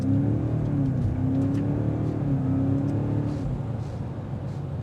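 A 2026 BMW M5 plug-in hybrid sedan accelerates with a steady engine drone and a rising whine that climbs in pitch, heard from inside over road noise.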